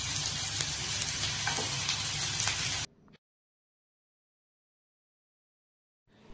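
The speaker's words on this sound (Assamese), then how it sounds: "এতিয়া মই তেৱাখনত মাংসখিনি ভাজি লওঁ অলপো তেল ব্যৱহাৰ কৰা নাই" Chicken meat dry-frying in a pan with no oil, for a smoky boiled chicken dish: a loud, dense, steady sizzle for about three seconds, then it cuts off abruptly into silence, with a faint return of sound at the very end.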